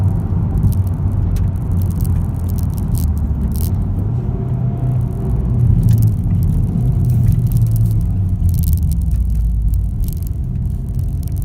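A Honda Civic Type R in sport mode gives a steady low engine and road rumble from inside the cabin, with faint rattles over the top and no speech.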